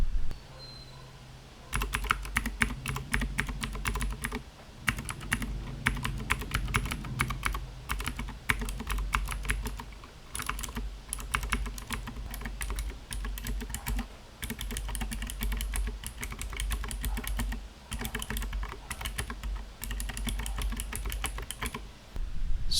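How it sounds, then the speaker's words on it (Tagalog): Rapid clicky typing on a keyboard with Kailh Box Navy click switches, dense bursts of sharp close keystrokes with plastic hitting the case, pausing briefly between runs. "which is the plastic hitting the case of the keyboard"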